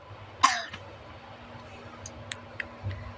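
A single sharp cough from a young child travelling on a train, followed by faint clicks and ticks over a steady low rumble of the moving carriage.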